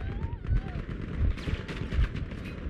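Battlefield 5 gunfire, with bursts of shots and heavy booms from a wooden-walled multiplayer fight, arrives in rapid thumping pulses under a voice.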